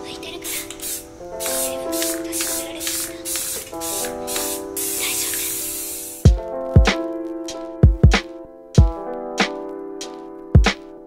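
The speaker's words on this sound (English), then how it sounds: "I sanded down the front grill and I matte clear coated it." A spray can applies matte clear coat to a sanded front grill on a Honda EK hatchback. Short close hissing bursts repeat in a rhythm, then sharp separate sprays follow over background music.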